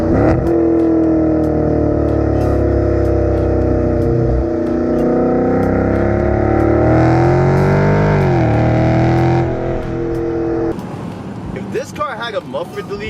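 A 2020 Dodge Challenger 392 Scatpack T/A engine roars loudly through a downshift, its revs climbing and swelling before easing off near the end, heard close from inside the car with speech over it.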